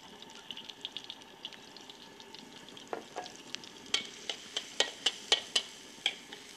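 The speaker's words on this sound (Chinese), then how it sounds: "油热了，就开始放这个姜跟蒜" Ginger and garlic fry in hot oil in a wok, giving a soft continuous sizzle broken by crisp popping spatters and scraping stirs. The popping grows louder and more regular toward the end, and no one speaks.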